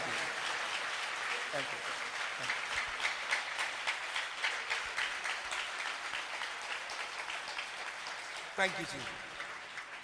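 A church congregation claps loudly in praise, a dense continuous wash of applause running the full length, with a voice thanking them over it and a brief vocal burst near the end.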